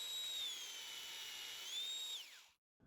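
A 25mm Forstner bit drills test cuts into scrap wood, a close, steady whining drill tone that rises and falls slightly over a couple of seconds before stopping abruptly.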